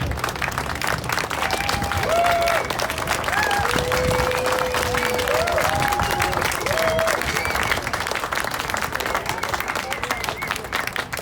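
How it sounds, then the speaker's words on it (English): Sustained audience applause at a talk on London road closures and low traffic neighbourhoods, loud and steady throughout with dense clapping and faint voices underneath. "A round of applause."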